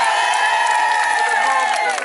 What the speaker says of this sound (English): big round of applause to you